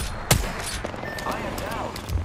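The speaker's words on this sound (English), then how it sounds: "I am taking fire, friends." Sharp bursts of gunfire from the game Apex Legends, with one loud close shot followed by quicker fainter cracks and game voice chatter over a busy background.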